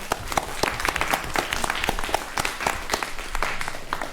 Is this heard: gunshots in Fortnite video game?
no